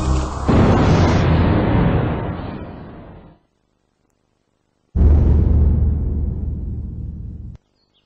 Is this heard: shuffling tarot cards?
no